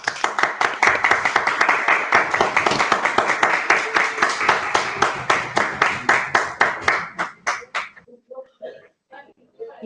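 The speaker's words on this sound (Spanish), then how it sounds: "se unan a mí en este aplauso para el ingeniero Henry Balbuena" A group of online conference attendees claps for an engineer over open microphones in a Teams call, a dense, rhythmic burst of close hand claps that thins out and fades to scattered taps near the end.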